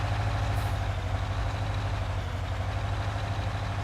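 Old tractor engine idling in a farming video game, a steady low rumble with an even chugging pulse held at constant loudness throughout, close and alone with no voices.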